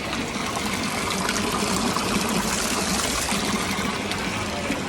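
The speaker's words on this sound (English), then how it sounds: "I couldn't miss the opportunity to drink from the Fontana di Trevi" Water from a spout of the Trevi Fountain in Rome runs in a steady, close trickling splash that fills the whole stretch without a break.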